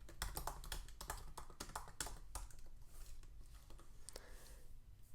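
Fingers type on a computer keyboard in quick, irregular bursts of close, faint key clicks, busiest at the start and thinning out toward the end.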